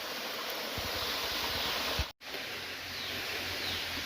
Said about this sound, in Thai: น้ำตกตาดอันนี้